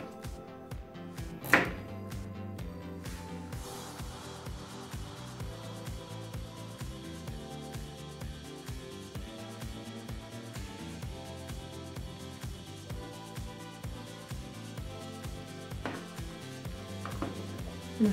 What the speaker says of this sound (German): Als erstes nehmen wir uns die Karotte und schneiden sie in kleine Stückchen.